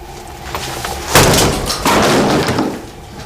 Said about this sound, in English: we're going to use the dynamic hammer.